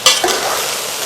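Sweet rice being stirred in a pot over the flame, giving a loud close scrape of the spoon followed by a bubbling, hissing sizzle, with no voices.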